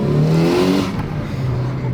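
A Mitsubishi Evo 7 fitted with a screamer pipe exhaust revs loudly and nearby, a rising engine roar that peaks and then drops back to a rough idle.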